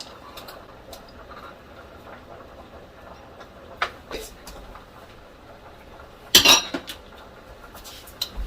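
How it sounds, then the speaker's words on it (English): Metal spoon stirring block cheese into a sauce in a pot on the stove while macaroni boils, giving soft scraping and a few clinks, with one sharp clatter against the pot near the end. "I'm just going to stir it gently until it's blended well together"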